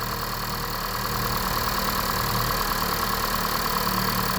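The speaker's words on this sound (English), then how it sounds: "with the motor running." A 2016 Honda Fit's engine idles with a steady, even hum and a light mechanical chatter, running continuously and close by with no talk over it.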